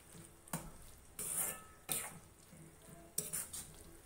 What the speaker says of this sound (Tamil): இப்போ நல்லா கிண்டி விட்டுட்டு ஸ்டவ் ஆஃப் பண்ணிடலாம்.